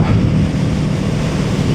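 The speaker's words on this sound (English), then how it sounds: "It is so windy today." Heavy wind buffets the microphone in a continuous low rumbling roar, loud and steady throughout, with no voices.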